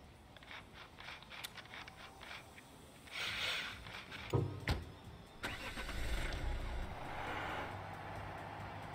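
A car engine in a tunnel-construction simulator game cranks and catches, then settles into a steady mid-pitched running hum at low volume, with a few clicks and thumps before it fires up.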